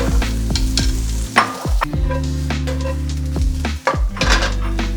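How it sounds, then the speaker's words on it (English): Vegetables fry in oil in a pan for vegan fried rice, a loud continuous sizzle with repeated scrapes and clinks of a utensil stirring against the pan. "a bit more oil in the pan. We're gonna start frying our vegetables"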